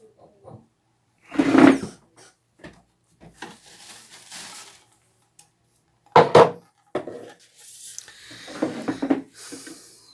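A juice of asuda (Adhatoda) leaves pounded in a mortar gives scattered, hollow knocks and grinding scrapes in irregular bursts, fairly close, with quiet pauses between strokes.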